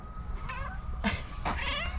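A pet cat meows several times inside a camper van converted into a tiny home, its drawn-out cries close and clear over a low steady background hum.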